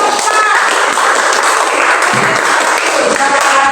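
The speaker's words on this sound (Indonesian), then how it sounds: "tepuk tangan buat Bapak" A classroom of students claps for a man after a presentation, loud, dense and close applause that runs steadily throughout with no pause, with no speech over it.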